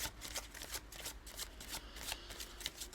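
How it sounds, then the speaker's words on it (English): A deck of tarot cards is shuffled by hand, giving rapid crisp riffling bursts that repeat in quick succession, close and fairly quiet with no talking. "I'm going to shuffle these 3 times"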